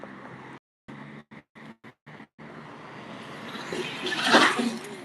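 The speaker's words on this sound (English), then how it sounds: "See that truck that just passed by?" A truck passes on a busy main street, its roar swelling from a low rumble to a loud peak near the end, with broken traffic noise cutting in and out before it.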